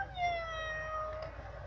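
A cat gives one long, drawn-out meow that rises and then falls, begging to be let outside, clear and close in a quiet room.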